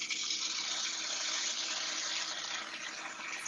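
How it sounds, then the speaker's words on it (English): Pancake batter sizzling steadily in a hot pan, a continuous broadband hiss that holds close and fairly loud for a few seconds, with no talk over it. "So mine is sizzling when it hits the pan."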